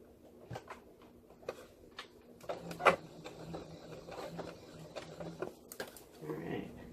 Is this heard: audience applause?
no